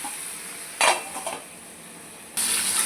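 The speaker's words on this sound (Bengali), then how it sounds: "তো তাহলে এবার আমি ঢাকা দিয়ে পটলগুলোকে ভেজে নেব।" Pointed gourd and fish fry in a covered pan, giving a steady soft sizzle broken by brief metallic scrapes of stirring and a louder burst of frying near the end.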